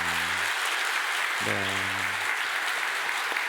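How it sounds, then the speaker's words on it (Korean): A congregation claps hard through a Sunday church service, a dense, steady wash of applause filling the room while a short spoken reply and a few sustained tones rise briefly above it. "박수하겠습니다"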